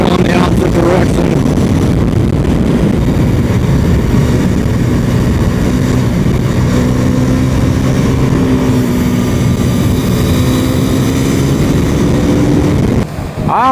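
KTM Duke motorcycle riding along Kentucky back roads, a steady loud engine drone with wind rush that holds at a constant pitch nearly the whole time, easing off only at the very end.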